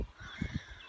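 Blackbirds or crows caw outdoors in Indiana during a hunt, several short harsh calls in quick succession at moderate distance, with a faint airy background and no talking.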